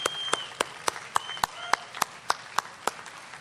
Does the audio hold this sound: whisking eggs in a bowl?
no